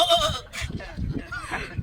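A human voice imitates a billy goat's bleat, giving a few wavering, nasal bleats in a close, fairly loud run lasting under two seconds, with no other talk.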